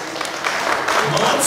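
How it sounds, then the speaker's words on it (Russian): Audience at a hosted team game show applauding a newly named team, a short burst of dense clapping with voices chattering over it. "Узкоглазки, друзья, аплодисменты!"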